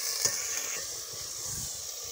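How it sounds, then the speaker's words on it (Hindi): Meat frying in a pan with browned onions makes a steady, close sizzling hiss, with soft stirring scrapes underneath. "प्याज ब्राउन करने के बाद हम इसमें गोश्त को ऐड कर लेंगे और गोश्त को भी हमें फ्राई कर लेना है।"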